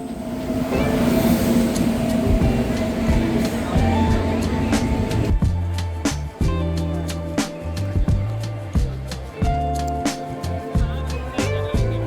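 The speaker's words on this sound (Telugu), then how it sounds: "చాలాసేపు అయ్యాక మా ట్రైన్ వచ్చేసింది" A train rumbles and clatters as it rolls in, low droning giving way to rhythmic rail knocks, fairly loud and close.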